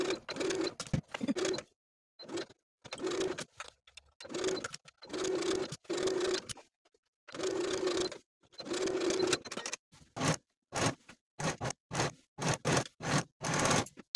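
A sewing machine stitches a sleeve into a dress armhole with a 5/8 inch seam, running in short, close bursts of whirring with brief pauses between them, growing choppier and more rapid toward the end.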